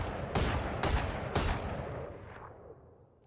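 Three sharp single gunshots from the Phantom rifle in a first-person shooter, fired as spaced single taps about half a second apart, each loud burst followed by a fading echo tail.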